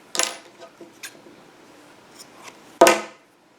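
Scissors snip a loose yarn end on a crocheted beach bag, giving a few crisp, close metallic cuts, one at the start, a couple of lighter snips, and a final louder snip.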